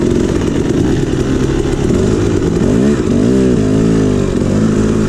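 A KTM 300xc two-stroke dirt bike ridden through sand at Sycamore Creek near Fort McDowell, Arizona, its loud, close engine buzzing and revving up and down continuously without talk.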